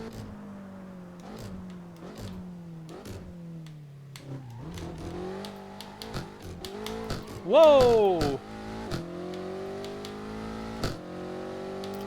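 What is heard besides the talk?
rear-wheel-drive car engine revving in a racing video game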